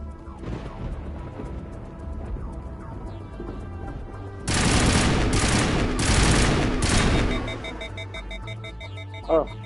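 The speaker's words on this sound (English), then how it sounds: "Oh, my gun overheats very quickly now." Rapid automatic gunfire from an overheating gun in the video game Mass Effect bursts in loudly partway through, a dense sustained volley that cuts off abruptly over a background of game music and effects.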